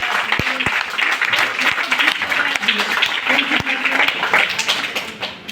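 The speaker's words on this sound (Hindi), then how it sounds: "पहले तो बच्चे के लिए तालियां होती हैं" Sustained applause from a group in a classroom setting for a child who answered correctly, steady and loud throughout with some voices mixed in.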